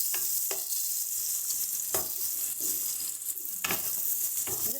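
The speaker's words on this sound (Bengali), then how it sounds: "পেঁয়াজগুলোকে একটু হালকা লাল লাল করে ভেজে নেব।" Sliced onions sizzle steadily as they fry toward light golden in a pan for a prawn bhuna, with a few sharp spatula scrapes and stirs breaking through the close, continuous frying hiss.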